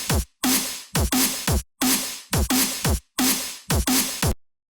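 Crushed drums processed with Liminal overdrive, grain and wave shaping: loud, gritty, distorted hits in a steady groove of about nine bursts with short gaps, ending in silence.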